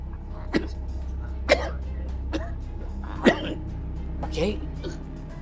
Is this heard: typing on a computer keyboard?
no